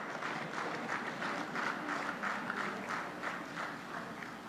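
Standing ovation from a gala crowd at an Akshaya Patra charity dinner in Chicago, a steady broadband wash of many hands clapping with faint rhythmic pulses, moderately loud and continuous throughout.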